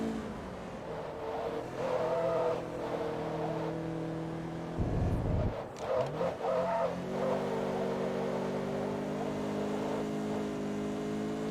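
A Mazdaspeed race car in Forza Motorsport 2 drones at steady high revs on track, dips briefly as the gears shift, then climbs again. The engine is loud and continuous, with no voices.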